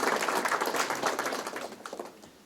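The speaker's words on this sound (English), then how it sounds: "Let's give them a round of applause." Audience applause at a credit union annual meeting, a dense burst of many hands clapping that fades out toward the end.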